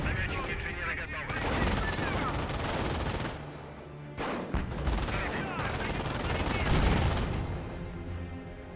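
Continuous machine gun fire and other gunshots rattle in dense, loud bursts during a Company of Heroes battle, with a short lull partway through and voices calling out over the fire.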